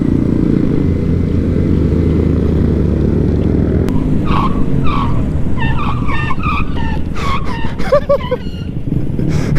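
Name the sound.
vehicles riding trails and doing wheelies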